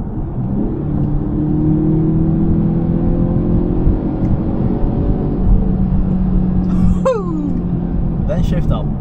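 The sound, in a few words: Audi A5 Sportback four-cylinder engine revving after downshift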